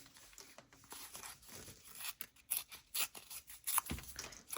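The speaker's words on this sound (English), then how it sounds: "rip it the opposite way" A scrap of brown paper torn by hand gives a series of faint, close rips and crinkles in uneven short bursts, with no talking.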